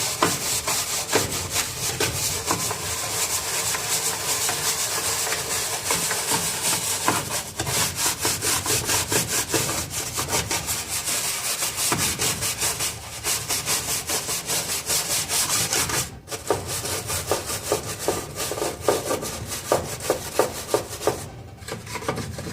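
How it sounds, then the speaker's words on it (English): Steady scrubbing of a Desert Spring humidifier with a scrub brush or SOS pad, a dense rasping rub that continues for the whole stretch with brief pauses and no talk. "you can take a scrub brush or a SOS pad and start scrubbing this little bits"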